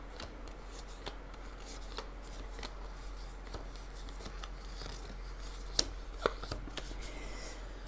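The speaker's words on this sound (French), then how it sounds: "on va recouvrir chacune de nos 5 cartes de 3 cartes" Playing cards are laid out on a table, each of five covered with three more: soft, quiet slides and light taps in an irregular rhythm, close by, with a few sharper flicks.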